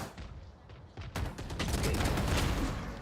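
Gunfire in Valorant during the SEN vs. G2 VCT Americas Grand Finals: a short lull, then a sudden, dense volley of rapid shots that keeps going loud to the end.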